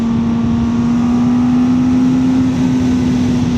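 A Kawasaki ZX-4RR motorcycle engine revs hard at a steady, loud, close-up drone, with a high sustained whine and no voices.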